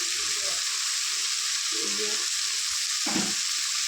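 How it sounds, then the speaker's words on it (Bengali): Turmeric dropped into hot oil in a pan for a breakfast dish, raising a loud, constant sizzle with a few short stirring scrapes near the end, no voices. "এবার হলুদ দিচ্ছি"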